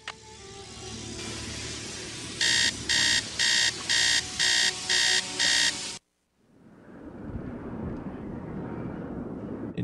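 Alarm clock in the Nancy Drew game Treasure in the Royal Tower rings in seven rapid, loud electronic beeps over a steady background hum, then cuts off abruptly into quieter ambience.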